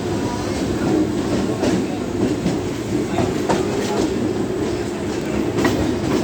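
A Mumbai local train pulls out of CSMT station on a quiet Sunday, giving a steady, loud rumble with rhythmic wheel clicks and occasional faint squeals, heard from on board.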